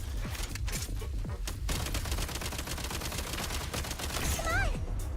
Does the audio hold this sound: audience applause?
no